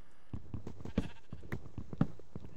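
Minecraft sheep bleating, several short bleats in quick succession, close and clear with no talking over them.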